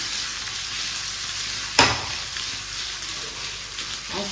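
Okra coated with turmeric and coriander masala fries with a steady, close sizzle in a pan, broken by a single sharp clank of the stirring utensil partway through.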